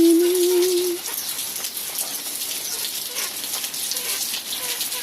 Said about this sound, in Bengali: বৃষ্টি দেখো হয়ে চলেছে সকাল থেকে